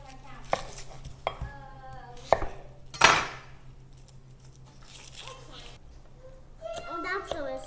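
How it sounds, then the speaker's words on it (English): A knife minces an onion on a chopping board while a Vietnamese dish is being cooked. A few sharp, scattered chops come through clearly, with talk and a voice nearby. "I'm going to mince an onion."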